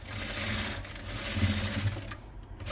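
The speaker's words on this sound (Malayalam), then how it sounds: "ഇവിടെ നിന്ന് ഇങ്ങനെ സ്റ്റിച്ച് ചെയ്തെടുത്താൽ മതി" A sewing machine runs steadily, stitching the corner of a doormat made from an old towel, a continuous close whirring drone with slight rises in speed and no talk.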